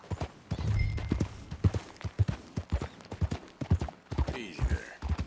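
Horse hooves clip-clopping in Red Dead Redemption 2, a brisk uneven run of close, clear hoofbeats with a faint whinny-like sound near the end.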